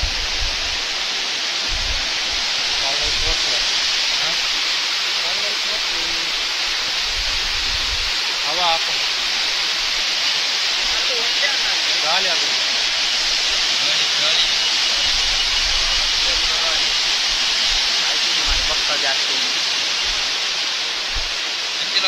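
Steady loud rushing water of Arbi waterfall, a continuous broad roar filling the whole stretch, with people talking intermittently over it.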